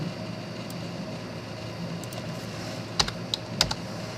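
Sparse keystrokes on a computer keyboard while values are entered in After Effects, a few sharp clicks near the end over a steady low room hum, with no talking.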